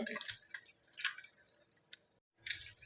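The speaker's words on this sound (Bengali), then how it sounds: "হাত দিয়ে তেঁতুলের পালগুলো জলের সঙ্গে এরকম হাত দিয়ে দলা দিলে তেঁতুলের পালগুলো বেরিয়ে যাবে" Hands squeeze and mash ripe tamarind pulp in water, giving soft wet squelches and drips in short bursts with brief pauses between, close and quiet.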